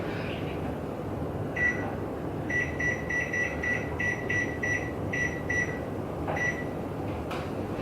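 An oven's control panel gives a series of short electronic beeps while being preset to 400 degrees Fahrenheit, faint and separated by brief gaps over a quiet room hum.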